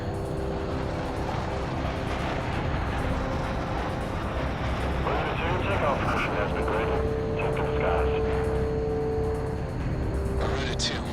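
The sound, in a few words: fighter jet taking off in the video game Ace Combat 6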